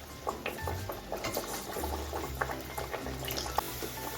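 Luchi fries in hot white oil in a wok, giving a continuous bubbling, crackling sizzle with scattered sharper pops and a low rumble underneath, close and fairly quiet.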